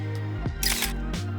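A single-lens reflex camera on self-timer fires its shutter during a house photoshoot, giving a short mechanical clack and whir up close over a steady low background hum.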